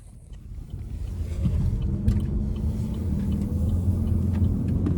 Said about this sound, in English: let's go ahead and take this 2025 Chevy Malibu RS out on the road for a test drive